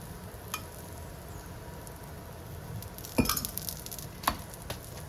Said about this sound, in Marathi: या पद्धतीने दोन्ही साईडनी तूप लावून चांगली शेकून घ्यायची.